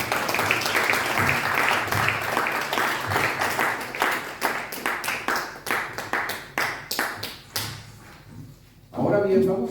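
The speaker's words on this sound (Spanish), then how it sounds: "Démosle un aplauso al que vive para siempre." A church congregation claps during a Spanish-language sermon service, building into rhythmic, roomy clapping that thins toward the end before a voice briefly comes in.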